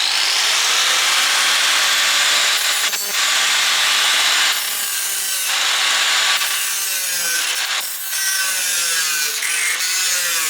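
A bracket being cut off a crash-damaged Audi A3 Quattro wing: a loud, close, harsh rasping cut that runs continuously for about ten seconds, dipping briefly a few times.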